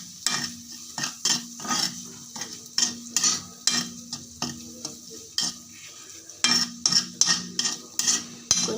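Onions and green chillies stir-fried for a bitter gourd fry, with a steady rhythm of spoon scrapes and clinks against the pan over a low sizzle, close and fairly loud, repeating roughly every half second.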